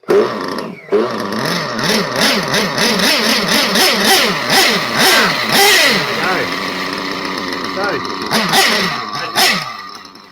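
A small high-pitched nitro engine in an HB Racing D819RS RC buggy revs repeatedly, its pitch rising and falling in quick surges, loud and close, with a voice talking over it.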